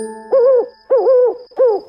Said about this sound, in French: Mais oui, c'est bien le hibou qui fait ou ou, on dit qu'il ulule.